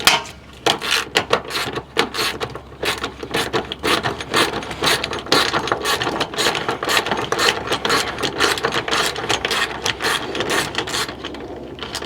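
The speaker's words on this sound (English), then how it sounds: "So get your wrench on the nut inside, which you're just gonna have to feel for it." A ratchet wrench turns a nut on watercraft trailer hardware, clicking in quick, rapid bursts throughout, close and fairly loud, with short pauses between strokes and no talking.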